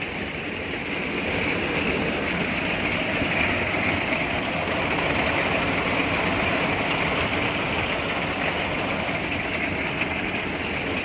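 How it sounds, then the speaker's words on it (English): Heavy rain pours down at a lakeside campsite in Rangsdorf, Germany, a dense, steady hiss that fills the scene evenly and without pause, close and loud throughout. "Listen to that rain."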